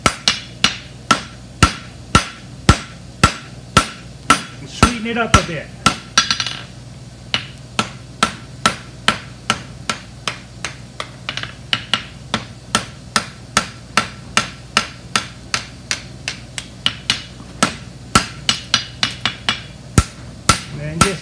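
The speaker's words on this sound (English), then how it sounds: "just scooping with my down side of my hammer" Steady, rhythmic blows of a hammer's peen ring on metal, roughly two strikes per second for the whole stretch, with a brief spoken remark partway through.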